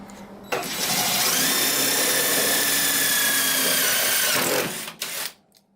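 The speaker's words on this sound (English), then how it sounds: "It's just drilling like straight through it." A power drill whines at high speed for about four seconds, biting through a spot weld in a Datsun Z engine bay with a steady grinding screech, close by, then spins down and stops.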